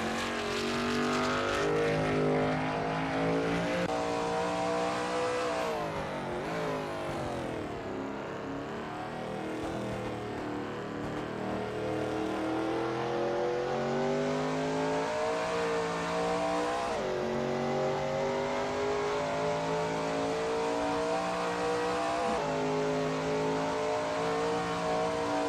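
A Shelby Mustang GT350R race car at Barbagallo circuit, close and loud, engine note rising and falling as it brakes, downshifts and accelerates through a corner, then holds a steady high roar.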